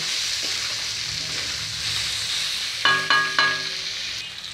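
Brinjal and tomato curry sizzling and frying steadily in a pan, a continuous close hiss with a few brief clinks of a utensil against the pan near the end.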